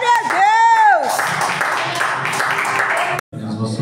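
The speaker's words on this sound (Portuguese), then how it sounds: "Aplauda o nome do Senhor." A church congregation claps loudly and steadily through most of the moment, following a raised voice at the start, then cuts off abruptly before quieter sound resumes.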